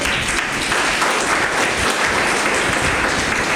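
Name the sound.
audience clapping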